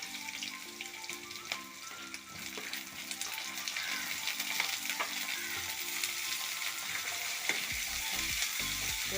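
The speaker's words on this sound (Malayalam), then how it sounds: "വെളുത്തുള്ളി പച്ചമുളക് അതിലേക്ക് ജസ്റ്റ് ഒന്ന് വഴറ്റിയതിന് ശേഷം കൊച്ചുള്ളി ഇട്ട് കൊടുക്കാം" Shallots, garlic and green chili sauté in a pan for a sardine thoran, giving a steady close sizzle with scraping stir strokes throughout and a few low knocks near the end; no one speaks.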